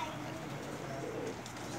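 A pigeon, a female bird kept by a pigeon fancier, gives a soft close coo over low background noise in a short moment.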